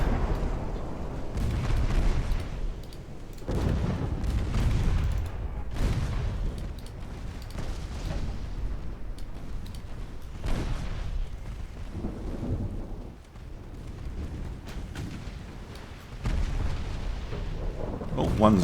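A warship explodes in a naval battle video game, with deep rumbling booms and blasts rolling at intervals over a steady low roar, faint talk mixed in.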